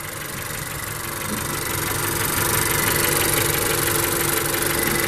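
A 2019 Honda CR-V's 1.5-liter turbo four-cylinder engine idles steadily up close, a low continuous rumble with a faint mechanical knock, growing slightly louder and then holding even.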